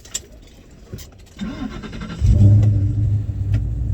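A 1997 Cobra with a Coyote V8 swap and Flowmaster exhaust cranks and fires up, settling into a loud, rumbling idle after some quiet handling noises at first.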